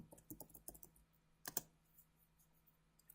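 A computer keyboard is tapped in quiet, uneven bursts of light clicks, with a brief cluster of sharper keystrokes midway and a final click at the end, all faint and close.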